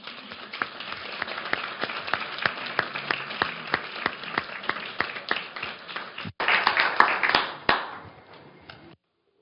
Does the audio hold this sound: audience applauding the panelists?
yes